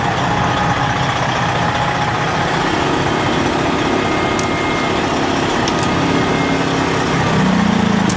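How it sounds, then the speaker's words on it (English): A truck's generator left running, a steady engine-like drone that fills the scene continuously at moderate loudness, with a slight swell near the end and no talk. "I realized I forgot to shut off my generator"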